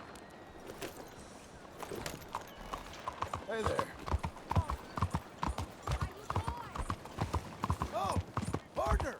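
Horse hooves clip-clopping in Red Dead Redemption 2, a string of sharp, close hoofbeats in an uneven walking rhythm, with a brief spoken greeting over them.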